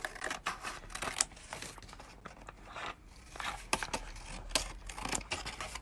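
A paper card panel embossed with a woodland trees folder being trimmed down along its lines, giving repeated close crisp cutting and crinkling sounds in uneven bursts.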